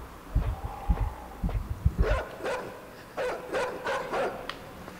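A dog in the video game Inside lets out a string of barks and snarls, deep thumping sounds at first, then sharper, higher barks. They are fairly close and there is no talk.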